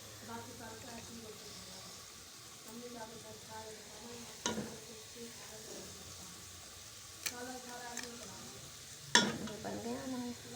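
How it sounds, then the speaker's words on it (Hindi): Roasted black chickpeas are stirred and scooped from a hot pan, giving a steady low sizzle with occasional sharp scrapes and clinks of a spoon against metal, while a voice talks over it. "ये हमारी भुनाई हो गई है चनों की। अब हम इसको निकालते हैं।"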